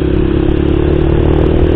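A motorcycle engine drones steadily with a low revving rumble and some clatter throughout a night ride on suburban roads, loud and close with no talk.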